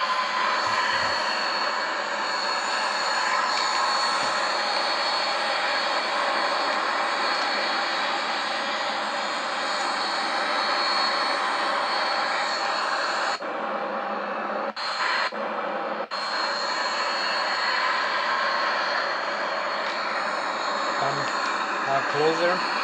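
A Boeing 737-800 airliner in Microsoft Flight Simulator X glides in on approach with a steady, continuous jet engine whine and airflow roar throughout, briefly dipping near the end, while someone talks over it.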